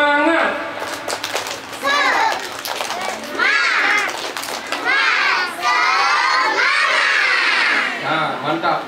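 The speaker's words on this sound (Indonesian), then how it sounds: "Hari ini kita lomba tepuk semangat, ya." Young kindergarten children shout a rhythmic tepuk semangat chant in loud, excited bursts at a farewell event, with voices rising together between short pauses.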